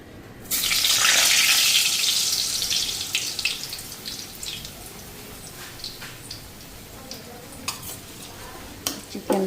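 Mustard oil hisses loudly in a hot pan in a home kitchen, a sudden burst of sizzling that slowly dies down into softer crackling and scattered pops nearby.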